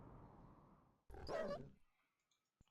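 A single close growl-bark from an attack dog unit in the strategy game Yuri's Revenge, following a brief stretch of noisy battle ambience and then a faint click.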